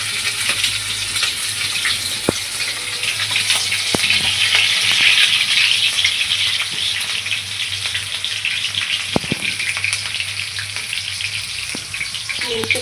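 Green chilies fry with cumin seeds in hot oil in a pan, a loud continuous sizzle with occasional knocks and scrapes of a stirring spoon.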